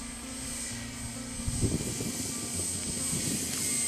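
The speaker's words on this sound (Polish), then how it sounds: "Samolot na prostej do lądowania." An RC Spitfire model airplane on final approach to land, a steady engine drone heard from a distance with a slight lift in pitch, under light outdoor wind noise.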